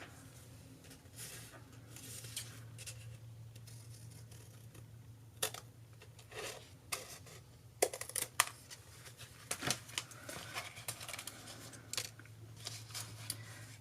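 Scissors cut paper down to size for a pocket in a striped travel junk journal, giving scattered soft snips and crisp rustles against a steady low hum.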